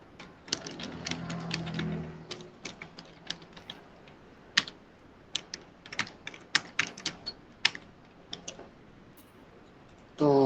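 Rapid, irregular clicks of a computer keyboard as code for a multiple linear regression exercise is typed, close and fairly crisp, with bursts of keystrokes separated by short pauses and a low murmur early on.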